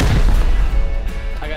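Deep rocket explosions boom close and loud during a Rust base raid, a heavy blast tailing off into rumble over about a second and a half.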